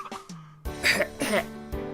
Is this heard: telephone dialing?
no